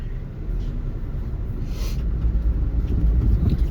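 A 2004 Ford Mustang driving in poor weather, heard from inside as a steady low engine and road rumble that swells slightly as it goes.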